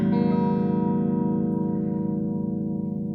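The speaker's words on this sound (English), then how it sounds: "At first we're gonna hear only the amp with a clean guitar." A clean electric guitar chord with both EMG pickups engaged rings through an amp, a single sustained strum that slowly decays with a slight shimmering modulation, close and fairly loud with no talking.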